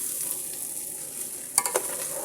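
Cardamom, cinnamon and bay leaf fry in oil for pulao with a soft continuous sizzle, broken near the end by a couple of brief clinks from the stirring utensil.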